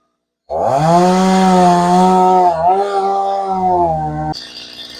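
A chainsaw roars up sharply while cutting a coconut tree into pieces, holding a loud, steady whine with slight pitch wavers for about four seconds before it drops away into a thinner idle.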